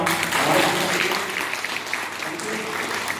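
At a direct-selling training seminar, an audience gives a hearty round of applause, a full dense clapping that swells early then settles into steady patter, with some crowd noise mixed in.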